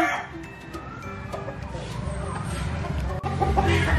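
Purebred Basilan native chickens cluck in a dense, busy chorus, with rooster calls mixed in, plus scattered knocks and steady background noise throughout.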